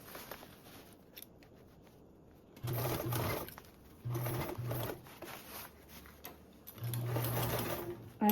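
A home sewing machine stitches a duffle bag lining in three bursts of steady whirring, each a second or two long, separated by quiet pauses with faint handling noises.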